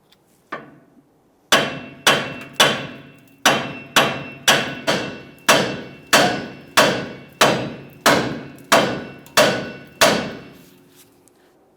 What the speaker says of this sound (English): I'm going to start tapping up along where the upper ball joint makes its way through the knuckle here.